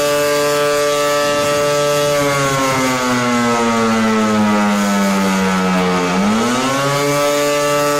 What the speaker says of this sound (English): What you're about to hear is a siren that was made by Elector back in the 1930s.